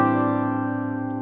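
A single guitar chord with a cut capo, two fretted notes and the rest of the strings ringing open, held steady and fading slowly over about a second.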